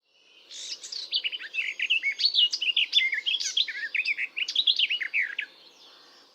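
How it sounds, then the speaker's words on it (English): Garden warbler song, a rich, hurried warble of varied chattering phrases that flows for several seconds, close and clear with no other sounds. "Garden warbler."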